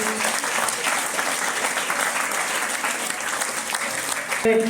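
Children clap loudly and steadily at a model youth village council assembly held at a Jawahar Navodaya Vidyalaya school, forming a dense, sustained wash of applause that keeps up throughout.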